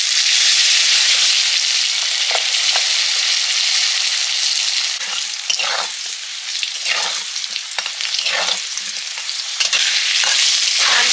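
Potatoes fry in hot oil in a pan for a fish curry, with a steady, loud, continuous sizzle and occasional crackles and stirring scrapes.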